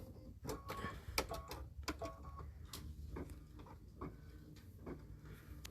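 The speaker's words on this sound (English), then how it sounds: "now we're going to stitch out the lettering" Embroidery machine stitching out lettering, a brisk irregular clatter of sharp needle ticks and taps running throughout, close by but fairly quiet.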